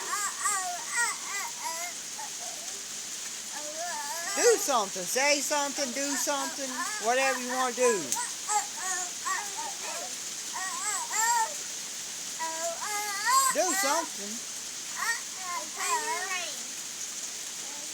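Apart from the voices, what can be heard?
rain falling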